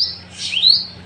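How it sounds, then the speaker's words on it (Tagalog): A single bird in Palawan gives a bright, close chirp, a high sweeping whistle that rises and bends over about a second, with no other sounds. "mga ibon, tumutunog"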